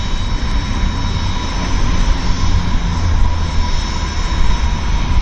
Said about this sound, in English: they get special treatment for bringing a classic Learjet into Vancouver